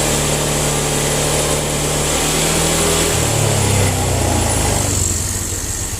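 A Honda Vario scooter engine, previously slow to respond to the throttle, is revved gently. It produces a loud, close, continuous hum that rises in pitch midway as the throttle opens, then eases back. No one speaks.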